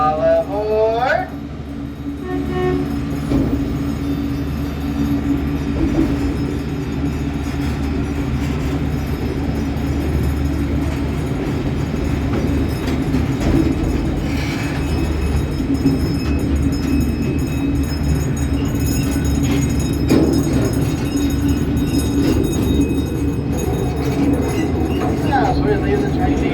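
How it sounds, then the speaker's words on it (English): A miniature Union Pacific train pulls out of its depot at the San Antonio Zoo with a brief wheel squeal, then settles into a steady clattering rumble for the rest of the run. A voice can be heard faintly over it. "As we leave the train depot, take a look off to your left"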